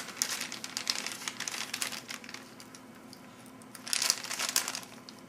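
A food ration pouch crinkles and rustles up close as it is cut in half, with a steady soft crackling that swells into a louder burst of crinkling near the end.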